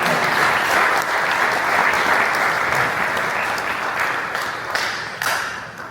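Devotees at a satsang gathering applauding together, a dense sustained wash of clapping from a large crowd filling the room, tapering slightly toward the end.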